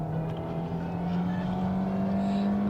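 A Hyundai Tucson with a 2-liter four-cylinder engine accelerates in all-wheel drive, holding a lower gear, its engine hum steady and slowly rising in pitch from inside the cabin.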